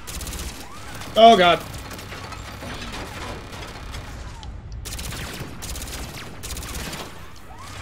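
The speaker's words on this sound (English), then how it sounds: "I literally just have to take up the turret now" Rapid turret fire from the video game Mass Effect on Omega runs as a continuous mechanical rattle through the background, with one louder burst near the start, and a player speaks briefly over it.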